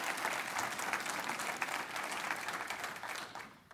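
Audience at a Hispanic Heritage Month breakfast event claps in a dense, sustained round of applause that fades slightly toward the end, heard somewhat distantly.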